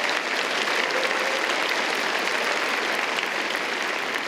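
A graduation audience at a Faculty of Science ceremony applauds the valedictorian, a continuous wash of crowd clapping heard from some distance, even and unbroken throughout.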